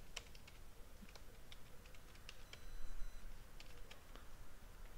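A computer keyboard typed on while entering a build command, with quick irregular key clicks in short runs, close up over a steady background hiss, no speech.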